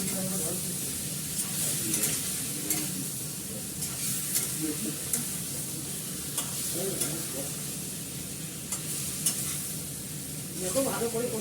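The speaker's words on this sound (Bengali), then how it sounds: "দেখো ভালো করে কষাচ্ছি" Food sautés in a small amount of oil with a steady sizzle and hiss, broken by repeated stirring scrapes in the pan, heard close up with faint voices in the background.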